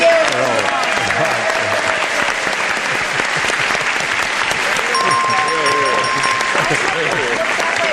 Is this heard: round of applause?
yes